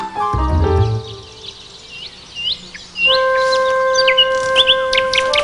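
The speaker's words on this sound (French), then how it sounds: "Le prince possédait aussi un rossignol qui chantait si merveilleusement" A nightingale sings a sequence of clear whistled notes and quick rising chirps, fairly close, after a short burst of lower rustling and knocking at the start.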